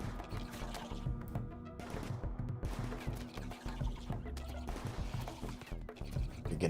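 Gunfire from a RimWorld colony battle: dense, overlapping volleys and sharp cracks crowd the whole stretch, with steady sustained tones underneath and no clear pauses.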